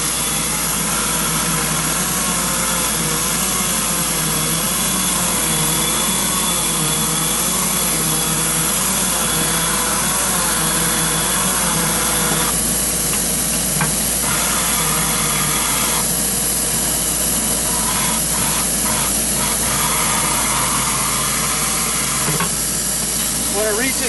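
A QuikSpray concrete pump runs on site, giving a constant loud hissing, rushing mechanical noise with bursts of rattling texture layered over the steady drone.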